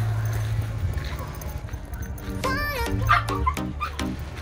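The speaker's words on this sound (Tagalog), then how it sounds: "marami kaming alagang aso. Lagi silang gutom." Several pet dogs bark in short bursts at home, close and loud, over a low steady hum and some background talk.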